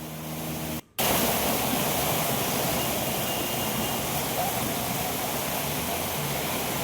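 Heavy rainwater flooding a street in Katraj, Pune during a downpour, strong enough to sweep away two-wheelers; a loud, steady broadband rush fills the whole clip, broken once by a brief dropout near the start.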